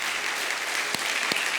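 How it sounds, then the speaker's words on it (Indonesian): A church congregation claps steadily in dense, even applause, with a couple of sharper individual claps standing out. "Kita tepuk tangan buat Tuhan Yesus."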